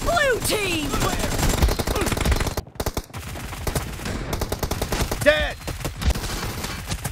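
Rapid automatic gunfire in a BGMI team deathmatch, dense bursts of shots repeating throughout alongside game effects, with a brief voice speaking over it.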